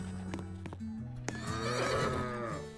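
A horse in the Roblox game Brookhaven neighs in a loud, wavering whinny lasting over a second, preceded by a few clip-clop hoof knocks and a low game tone underneath.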